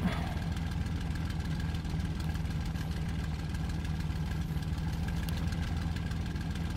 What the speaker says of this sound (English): Everybody engine start.